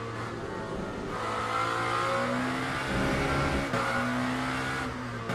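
LMP2 race cars in the game Le Mans Ultimate rev and accelerate, their engines rising and falling in pitch over several shifts, loud and close with no voices.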